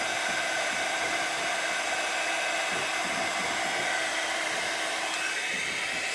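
A heat tool blows hot air to heat-set a craft piece, a loud, steady motor whir and rush of air that runs continuously with no voices.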